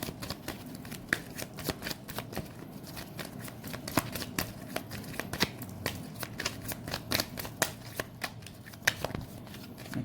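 Tarot cards are shuffled and drawn by hand, crisp riffles and slaps coming in irregular bursts, close and fairly quiet, with no one speaking.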